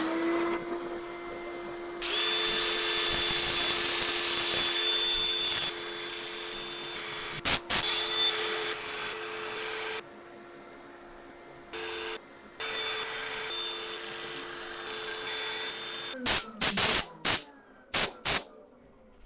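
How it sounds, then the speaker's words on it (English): Power sanding of a false acacia burl wood piece, a steady whining machine hum with a sustained tone, broken by pauses, brief bursts and sharp clicks as the sander starts and stops. "I'm going to set up for sanding"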